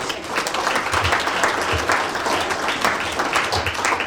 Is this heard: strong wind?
no